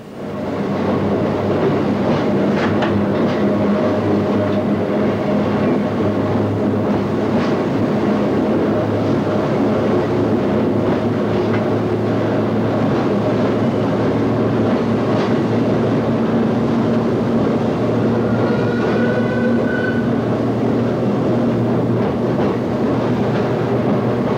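London Underground District Line train L44 pulling away and accelerating near Upminster Depot in 1990, a loud, steady rumble with a sustained motor drone and faint rail clatter throughout.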